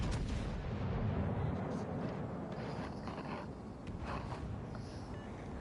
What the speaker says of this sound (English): I'll fire my front guns at her.